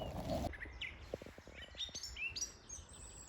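A willow warbler sings a descending series of sweet, whistled notes, moderately distant, against quiet background rustle.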